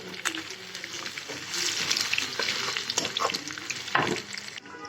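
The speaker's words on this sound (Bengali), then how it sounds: "আমি পেঁয়াজটা লাল করে নিচ্ছি এটাতে।" Onions fry in oil in a pan to a reddish brown, a close sizzle with frequent stirring and spoon scrapes, no voices.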